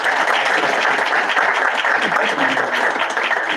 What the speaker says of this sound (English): How about a round of applause for Dusty?